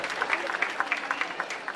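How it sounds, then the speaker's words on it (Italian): Applause at a film casting held in a church in Castrofilippo, a brief patter of claps from a small group, moderately faint and quickly over. "applauso, ciao!"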